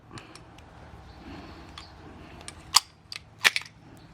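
A firearm being taken apart for cleaning, with scattered light ticks and then a few sharp, close metallic clicks and snaps of parts coming loose against a quiet background.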